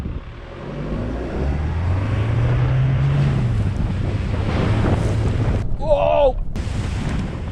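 A £31,500 pickup truck ploughs at full throttle through deep water, loud rushing splash and engine roar with buffeting wind noise, and a voice calls out briefly near the end.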